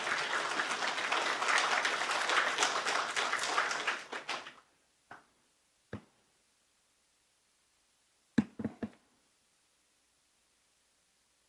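Church congregation applauding to welcome a guest pastor at a revival meeting, a steady wash of clapping for about four seconds that then breaks off into a few scattered claps and taps with silence between.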